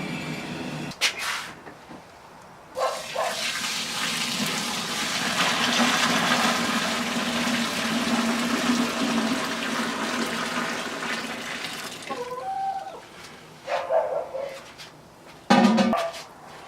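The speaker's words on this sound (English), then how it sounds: "I'm going to go ahead and pour it into the mash tun." Hot strike water is poured into a mash tun for all-grain homebrewing: a continuous splashing, gurgling pour builds and runs for about ten seconds, flanked by brief knocks and handling clatter.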